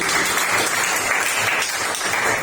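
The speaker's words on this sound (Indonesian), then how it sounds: "kita tepuk tangan satu kali lagi" A class gives a round of applause to close a lesson, with dense, steady clapping from many hands filling the whole stretch at an even loudness, and no voices over it.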